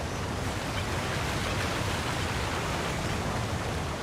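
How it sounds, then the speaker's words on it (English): A raging river of rushing water roars as a steady, dense wash of broadband noise, loud and unbroken from start to finish with no voices. "A raging river."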